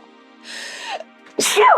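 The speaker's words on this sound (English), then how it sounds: "I don't know why I'm sneezing so much" A person sneezes twice in quick succession in an office, each a sharp loud burst with a breathy intake before it, close to the microphone and with no talk around it.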